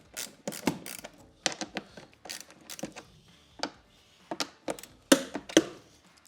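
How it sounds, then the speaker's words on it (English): A hand ratchet loosens 7/16 bolts on a Harley-Davidson Touring motorcycle, clicking in short, close bursts of rapid pawl ticks separated by brief pauses, with no talking. "we're going to loosen these three bolts"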